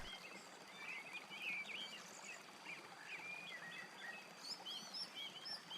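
Birdsong and chirps with faint insect buzz along a rocky river bank in the game Roadwarden, high bright calls repeating throughout over a soft steady water-like bed, no voices.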